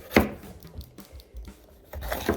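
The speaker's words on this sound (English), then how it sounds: "next I'm gonna cut up a pepper and an onion" A knife chops a pepper and an onion on a board: a firm thud at the start, a few softer cuts in between, and another cluster of chops at the end, close and unaccompanied by talk.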